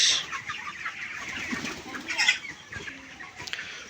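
Chickens cluck softly nearby in short irregular bursts, with a rustle or two of wings over a quiet background.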